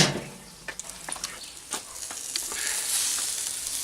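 Harissa chicken cooking on a lidded barbecue gives a steady, fairly faint sizzle and crackle, with a few sharp pops and spits scattered through it and no voices.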